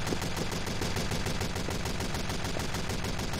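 Sustained rapid gunfire in the video game Mini Soldiers, a dense unbroken rattle of shots at steady volume with no voices.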